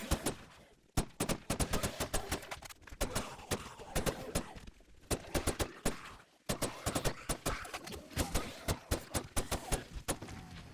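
Sniper rifle shots in 7 Days to Die crack out as a string of sharp, loud reports, evenly spaced in quick succession with short pauses between volleys.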